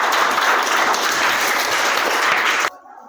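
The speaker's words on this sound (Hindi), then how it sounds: "स्वाति के लिए क्लैपिंग" A group of children applauding for Swati, a dense burst of close clapping lasting a few seconds before stopping abruptly.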